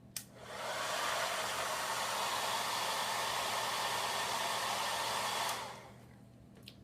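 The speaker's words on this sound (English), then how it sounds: "Blow dryer," A hair dryer on low, warm setting whooshes steadily for about five seconds, a close, even rush of air that clicks on and then off.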